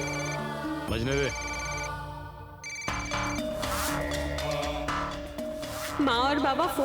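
A phone ringtone chimes loudly and close in a repeating melodic pattern, stopping briefly before starting again.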